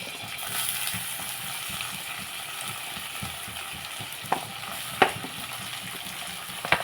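Onions fry with dried prawns in a pan, a steady close sizzle and crackle with a few sharp pops and stirring scrapes near the end.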